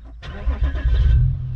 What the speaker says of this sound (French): Le contact, démarrage sans clé